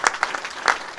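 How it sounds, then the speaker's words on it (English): Audience applause at a bill-signing event held by an Illinois governor, a brief burst of clapping from a crowd, moderately loud and close, with no talk over it. "could we have another round of applause for that"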